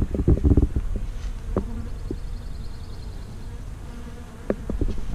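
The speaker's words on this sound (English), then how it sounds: "All right, the bees are starting to swarm around my head" Bees swarm around a hive outdoors, a close, dense buzzing that swells and fades as insects pass near, with a few sharper bumps and rustles and no talking.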